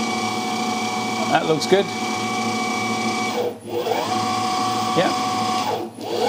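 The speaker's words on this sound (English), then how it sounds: "let's try the spindle." A CNC mill spindle runs with a steady, close mechanical whine and hum that dips briefly twice. A voice speaks a few short words over it.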